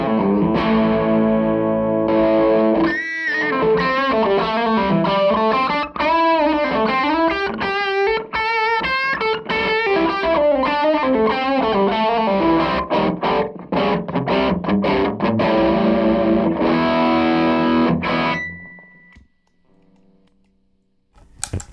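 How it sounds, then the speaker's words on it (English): Electric guitar run through a Zander Circuitry Tape Deck delay pedal set to a short repeat with plexi-style overdrive, a dense, loud driven riff with a thick doubled tone that fades out at the end, with no talking. "Just having that short repeat almost gives it a doubling effect, which was what you'd do in the studio anyway."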